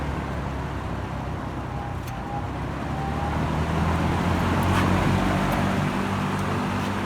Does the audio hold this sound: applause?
no